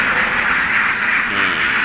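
Ducks quacking continuously amid a dense, noisy background, a steady chorus of calls with no clear pauses.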